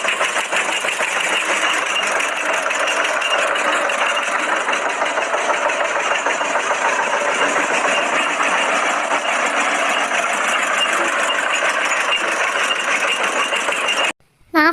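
A vehicle engine runs with a steady, loud mechanical drone that holds evenly for about fourteen seconds, then cuts out briefly near the end before resuming. No one speaks.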